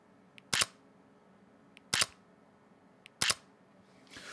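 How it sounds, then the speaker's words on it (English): Sony A7C mirrorless camera shutter firing three times at even intervals, each a sharp, close, toy-like mechanical click-clack with faint lighter clicks just before, quiet room between. "the shutter sound. It sounds like a children's toy."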